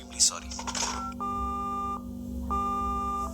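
Telephone tones while calling room service from a hotel room: two sustained electronic tone bursts, each close to a second long, follow a short stretch of talk and rustling at the start.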